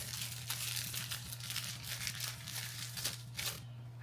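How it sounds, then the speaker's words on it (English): Packaged quilting items are unwrapped nearby, giving continuous crinkling and tearing of packaging in bursts over a steady low hum. "we just unwrap these."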